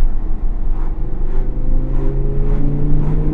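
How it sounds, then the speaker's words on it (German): An Audi R8 RWS with a naturally aspirated V10 engine drives along, a loud, deep, steady engine drone with slight rises in pitch, heard from inside without talking. "V10 Sauger. Schön laut. Echt schön laut."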